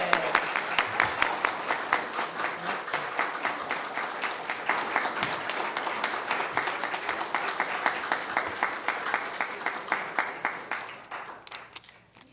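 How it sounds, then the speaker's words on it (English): Warm applause from a congregation at a Unitarian Universalist Sunday service, a steady roomful of clapping with individual claps standing out, slowly thinning and fading toward the end. "the rest of us are going to give you a heartfelt applause"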